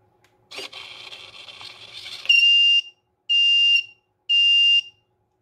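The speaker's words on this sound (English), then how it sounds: "our wake up alarm from buzzer rang" An IoT smart curtain opens with a whirring motor, then its wake up buzzer rings in three loud, even, high-pitched beeps with short gaps between them.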